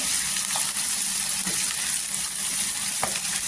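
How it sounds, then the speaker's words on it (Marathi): Onion, fresh curry leaves and green chillies fry in hot oil in a pan, giving a steady, close sizzle with a few soft stirring clicks and no talk. "कांद्याला छान असं परतून घ्यायचं तेलावर"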